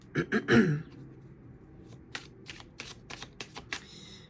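Tarot cards shuffled by hand in a quick riffling burst, followed by sparse, softer card taps and flicks as a single clarifier card is drawn, close and quiet with no talking.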